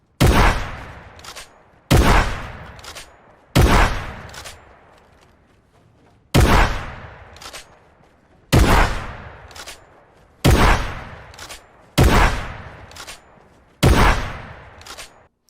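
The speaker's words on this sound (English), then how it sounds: "me showing this method compared to the normal way of shooting and then placing" Gunshots ring out in the Fortnite video game as eight sharp, loud blasts at roughly even two-second intervals, each decaying quickly into a short tail, with no talking.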